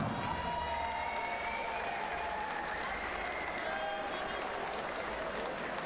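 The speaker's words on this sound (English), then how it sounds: "Can we have a round of applause for Marco Meijer?" Darts audience applauding the Dutch referee Marco Meijer at a big arena event, steady dense clapping with scattered cheers and whistles held at an even level for the whole stretch.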